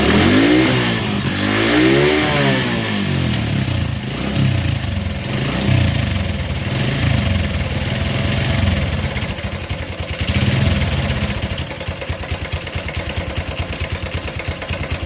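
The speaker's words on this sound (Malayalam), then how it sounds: "വണ്ടിയുടെ ഓൺ റോഡിലുള്ള ഒരു സ്റ്റാർട്ടിങ് ശബ്ദം ഇങ്ങനെയാണ്" A motorcycle fitted with a homemade air filter made from a juice bottle, running on reserve petrol, starts and revs up and down in strong swells, then settles into a steady, close, throbbing idle with no talking.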